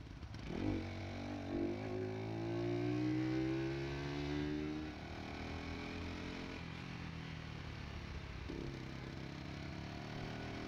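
A Skyteam Tracker 125 motorcycle ridden through town, its small engine revving up through a gear change and then settling into a steady, fairly quiet run with a second rise in pitch near the end.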